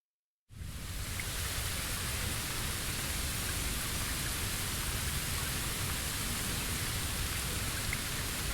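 Steady heavy rain starts abruptly and then holds as a dense, even hiss with a low rumble underneath, continuous and fairly loud, with no voices.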